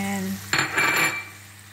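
Tomato tossed into a hot pan for fish sarciado, a sudden burst of sizzling with a metallic utensil scrape that quickly fades to a quieter fry over a steady background hum.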